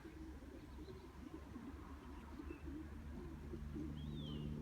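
Pigeons cooing softly at a distance over a constant low background rumble, with a few faint chirps higher up.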